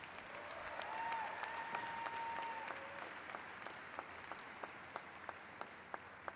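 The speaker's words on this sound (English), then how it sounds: "I will now ask that the graduates give a round of applause for the faculty" Graduates at a university fall commencement ceremony give a round of applause for the faculty, a steady wash of clapping from a large audience that carries on for several seconds, with a few sharper claps standing out near the end.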